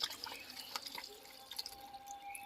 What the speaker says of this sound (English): here I have about 500 grams of baking soda, and we are going to pour all of this into it